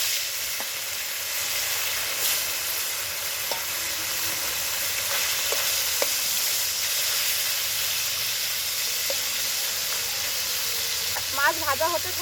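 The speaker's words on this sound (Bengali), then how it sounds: "তেল গরম হয়ে গেছে, এবার মাছগুলো ভেজে নেব।" Amudi fish fry in hot mustard oil with a continuous, close, hissing sizzle lasting the whole twelve seconds, broken by faint clicks and a brief voice near the end.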